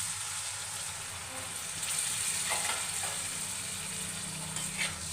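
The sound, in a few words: prawn masala sizzling in pan after adding water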